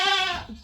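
Goats on a farm give a single loud, wavering bleat up close, trailing off into a softer grunt at the end.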